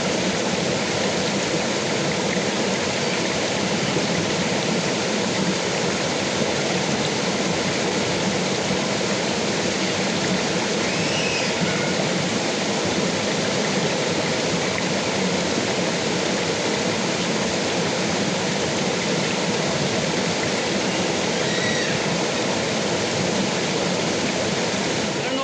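Water in the Sangulwadi village canal in Konkan rushes in a loud, unbroken flow, a steady broadband roar that holds for the whole stretch without any clear talking.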